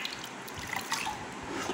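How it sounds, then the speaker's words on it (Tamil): Water dripping and splashing in a bowl as hair is rinsed and washed, a steady close trickle with small irregular drips and no talk over it. "பவுலில் தண்ணி வச்சுருக்கேன், அதை வச்சு நல்லா வாஷ் பண்ணிடுங்க"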